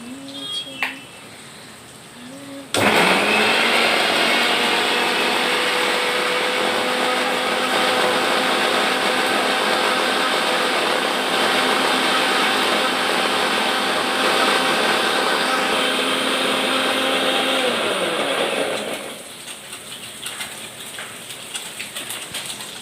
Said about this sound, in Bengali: একবার পোস্তটা যেটা বেটে নেব।